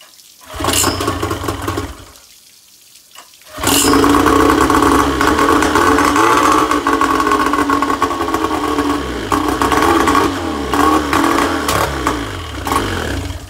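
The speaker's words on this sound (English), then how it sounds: "So the motor's definitely acting like it's running lean and running out of fuel and whatnot." An outboard motor with a carburetor and fuel problem, running lean at idle, drones loud and steady up close, sputters out briefly, then restarts and keeps idling unevenly.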